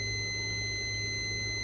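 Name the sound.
multimeter beeping in diode test mode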